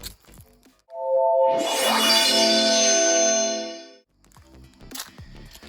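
A Samsung Galaxy Grand Prime phone powers on outdoors with one loud, bright startup chime of sustained ringing tones lasting about three seconds, then fading to quiet background.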